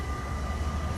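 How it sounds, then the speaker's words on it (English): A train passing near Vlaardingen station in the Netherlands gives a steady, loud low rumble with a constant high whine, heard alone and unbroken throughout. "Oh, there's another train coming."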